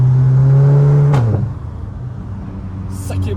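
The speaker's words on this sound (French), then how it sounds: "Ah, ça patine. Ça patine un peu. Ça patine." A Cupra Leon revs hard with a loud, steady engine drone that drops sharply as the wheels lose grip, followed by lower rumbling and a couple of faint squeaks, with people talking over it.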